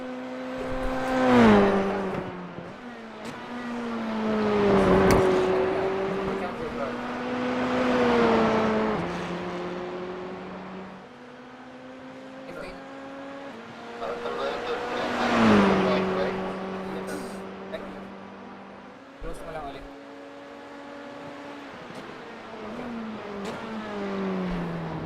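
Sim racing cars on out laps in an e-racing grand final, engine notes rising and falling through gear changes as several cars pass, with voices talking over the running cars.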